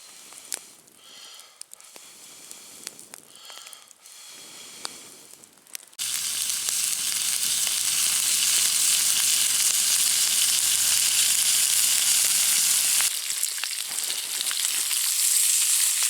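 Food sizzles hard in a pan of saved bacon fat at a snowy tent camp, a loud continuous hiss that starts abruptly after a few quiet clinks and handling sounds, then fades out near the end.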